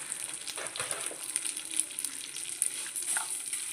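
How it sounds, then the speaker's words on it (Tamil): Vermicelli roasts in a pan for payasam, giving a close, steady sizzle broken by light scraping stir strokes, with no talking. "இப்போ நான் சேமியாவை போட்டு வறுக்கிறேன்."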